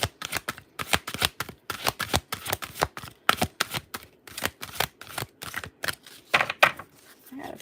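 Large tarot cards being shuffled by hand, a rapid run of crisp riffling bursts and flicks in a steady uneven rhythm, close and clear with no talking.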